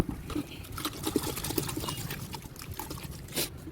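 Water trickles and pours into a mixture of Amul milk powder being prepared for organic home compost, a soft, steady liquid gurgle heard up close with a few splashy bursts.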